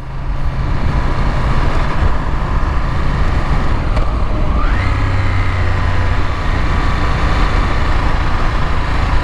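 A first-generation Ducati Monster motorcycle idling close by with its dry clutch, a loud, steady low engine rumble with a brief rev-like rise midway, no voices.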